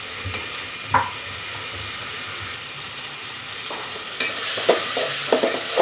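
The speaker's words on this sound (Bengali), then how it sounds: "চিংড়ি মাছটা ভেজে নিচ্ছি।" Shrimp fry in a pan with a low, continuous sizzle and a few stirring knocks and scrapes that grow busier toward the end, with no voices.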